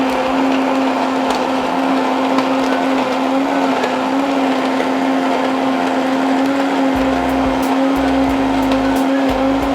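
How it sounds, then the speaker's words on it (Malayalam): A mixer grinder blends cold coffee in a loud, steady, unbroken motor whine that runs the whole time, close by with no talking. "ഇനി നമുക്കിത് മിക്സിയിലൊന്നും കൂടി അടിച്ചെടുക്കാം."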